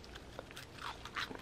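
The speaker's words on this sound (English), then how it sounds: "I'm gonna have Stella Maxwell's favorite snack to munch on, which are the crunchy peas." Crunchy pea snack bitten and chewed close to the mouth, a few quiet crisp crunches in quick irregular succession with soft mouth noises between them.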